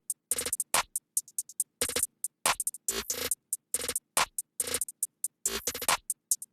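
A dry, punchy programmed drum pattern in FL Studio, snare hits landing with rapid hi-hat rolls, crisp, with short silences between bursts.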